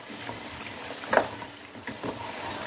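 Beef paya cooks in a pot as water is flicked onto it by hand, bringing a soft, close sizzle with a few brief bursts of hissing and crackle over a quiet frying bed.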